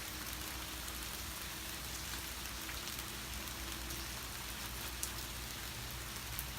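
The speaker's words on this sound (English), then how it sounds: "It's raining out here." Summer rain falling outdoors, a steady dense hiss of drops with occasional sharper individual taps, even and continuous throughout at low level, with no voices.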